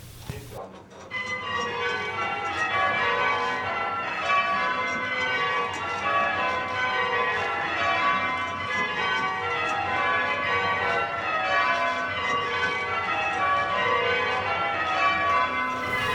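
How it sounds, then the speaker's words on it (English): A peal of church bells rings in the tower of the Taylor bell factory, a continuous cascade of overlapping tolls in steady change-ringing rhythm, heard from a distance. "were treated to a ring on Taylor's own peal of bells, installed in the tower at the factory"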